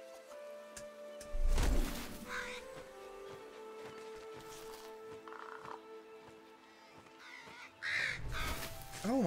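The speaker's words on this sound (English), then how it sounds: "About to punch a bird up in here." A crow caws several times in the VR video game Moss, harsh calls rising over a quiet, hollow ambience with occasional low thumps and a brief rumble, no speech.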